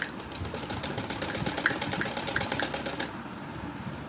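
A sewing machine stitches a suit, its needle clattering in quick rapid pulses for about three seconds before stopping, fairly quiet and close.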